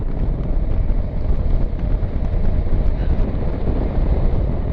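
Loud, steady buffeting wind roar fills the whole clip, a constant rushing blast with no pauses, riding a Kawasaki Versys 1000 motorcycle at about 30 mph on a windy day.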